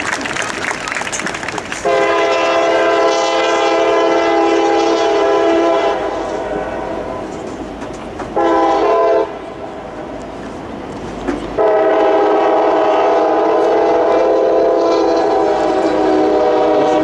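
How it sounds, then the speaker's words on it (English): A MARC commuter train rumbles past while its horn blasts in long, loud sustained blows, with brief breaks between them. "The train will come through right on time."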